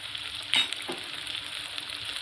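Soba noodles with dark sauce fry in a pan, a steady close sizzle with a brief sharp scrape or stir near the start, no one talking.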